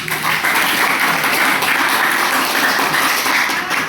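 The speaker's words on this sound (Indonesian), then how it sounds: "tepuk tangan dulu untuk kelompok A" A class of junior high students in an Indonesian classroom claps together for a group presentation, a dense, even wash of applause that holds steady throughout.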